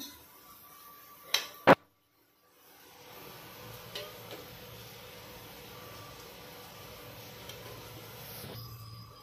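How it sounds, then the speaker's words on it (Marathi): Onion drops into hot oil for a chickpea curry, giving a couple of sharp clanks, a brief hush, then a steady, moderate sizzle that runs to the end with no talking. "तेल गरम झालेलं आहे, त्याच्यात कांदा छान गुलाबीसर होईपर्यंत परतून घेऊया।"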